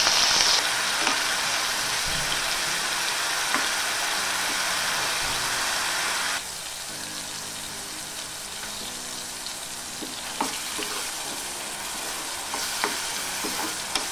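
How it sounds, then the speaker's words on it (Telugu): Onion paste frying in hot oil with a bay leaf, cardamom, cinnamon, cloves and cumin, a dense close sizzle that drops to a softer crackle partway through, with a few scraping stirs. "ఇప్పుడు ఇందులోకి ఉల్లిపాయ పేస్ట్ వేసుకున్నాము."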